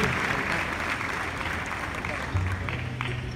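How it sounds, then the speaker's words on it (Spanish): Audience applause after a song at an anniversary celebration in Guatemala, a dense, steady wash of clapping that fills the whole stretch at a fairly close, even level. "Gracias por esos aplausos."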